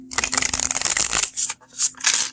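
Matte-cardstock Bone Stone and Earth Flesh Tarot deck being shuffled by hand, a dense crisp riffle of flicking cards followed by several shorter bursts, close and crisp, with no talking.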